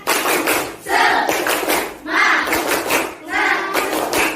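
Elementary school pupils in a classroom do a rhythmic spirit clap, with groups of quick claps and chanting children's voices in three repeated rounds.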